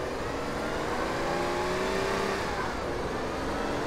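A fast car in GTA San Andreas roars at speed, its engine pitch climbing and shifting in a loud, continuous whine over a dense rushing drone.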